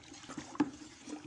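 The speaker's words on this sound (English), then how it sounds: "You just gently pour this caustic soda inside this bucket." Dissolved caustic soda solution poured gently into a bucket, a soft liquid trickle with one brief louder splash in the middle, close and fairly quiet, with no talking.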